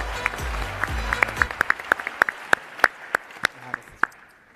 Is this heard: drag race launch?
no